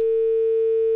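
A steady, unbroken telephone line tone plays during a radio phone-in call on a Chiang Mai FM health show, holding one pitch and fairly loud with no voices.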